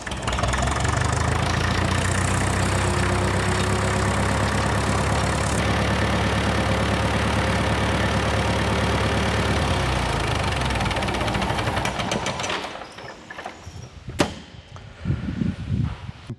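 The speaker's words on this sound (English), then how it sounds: "let it run the carburetor out of gas. We're going to switch it back to gasoline." A diesel engine fitted with a carburetor idles on gasoline, a steady loud mechanical drone with knocking, until it cuts out near the end and leaves faint scattered clatter.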